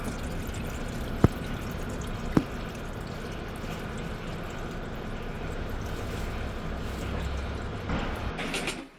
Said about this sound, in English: I think the water coming out there is supposed to be happening.